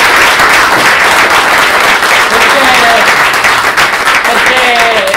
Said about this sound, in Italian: e voglio che l'applaudiamo